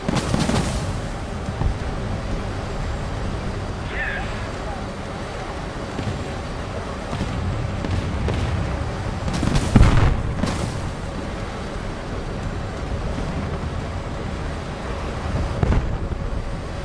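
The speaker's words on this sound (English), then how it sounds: "Did you just drop the bombs?" Bombs dropped from an aircraft in a video game detonate with booming blasts over a steady engine drone, one heavy explosion standing out near the middle and another later, with brief sharp pops between.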